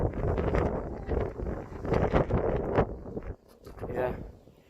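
Strong wind roars and buffets the microphone on a narrow knife-edge mountain ridge as clouds whip through, a loud, gusty rush that dips near the end, with faint speech mixed in.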